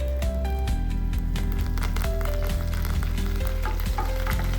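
Crushed garlic, asafoetida and curry leaves sizzling in hot oil for Rajasthani dal, a dense continuous crackle close up with stirring scrapes, and soft background music throughout.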